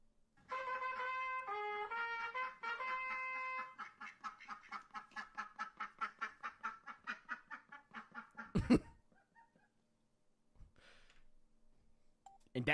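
Cartoonish honks and quacks from the goose in Untitled Goose Game come in a fast rhythmic run of bright tonal bursts, then a sharp thump and quieter scattered noises near the end, with no talking.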